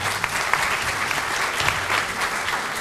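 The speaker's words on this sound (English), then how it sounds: "Give him a round of applause." An indoor audience at an educational policy summit breaks into sustained applause for a new school principal, a dense, steady wash of clapping with no talk over it.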